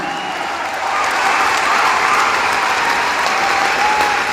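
An audience at a motivational wellness event claps loudly and steadily, a dense wash of applause that swells slightly after the first second and then holds.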